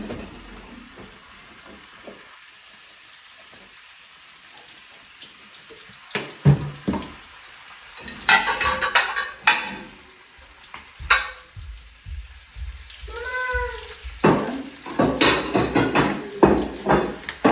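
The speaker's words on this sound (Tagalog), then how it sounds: "Ito yung igigisa natin sa ating vegetable, smoked meat, bacon" Vegetables, smoked meat and bacon sautéing in oil in a pan: faint quiet background, then bursts of sizzling and stirring scrapes growing busier, close by, with no speech.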